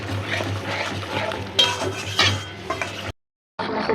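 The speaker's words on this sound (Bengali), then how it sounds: "মশলাটা ভালো করে কষা কষা হোক" A spice paste being stirred and sautéed in a pan for hilsa fish bhuna, with a spoon scraping and clinking against the metal over a low sizzle, close up, then a brief silence before the stirring resumes.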